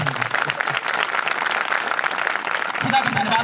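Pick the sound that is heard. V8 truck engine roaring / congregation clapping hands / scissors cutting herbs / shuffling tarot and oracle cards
congregation clapping hands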